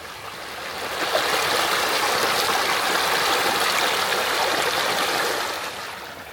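Creek water flowing steadily and fairly strongly, a broad continuous rushing wash heard close and alone, swelling in at the start and easing slightly at the end.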